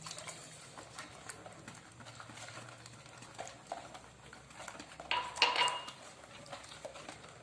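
Orange cake batter with yogurt, eggs, oil and orange juice being mixed in a bowl, heard as scattered light clinks and scraping taps of a utensil against the dish, with a brief louder clatter near the end.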